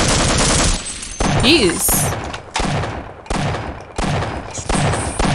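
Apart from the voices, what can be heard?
gunfire in video game Half-Life: Opposing Force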